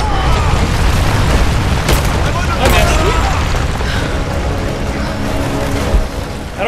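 Detonated charges explode in the video game Rise of the Tomb Raider during a firefight, with loud booming blasts and bursts around the two- and three-second marks over a constant rumble of game noise.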